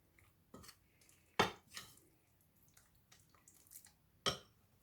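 Beef being mixed with cornflour in a bowl, heard as scattered clinks and wet squishes of utensil against dish, a few sharper knocks among quieter stirring, close and without talk.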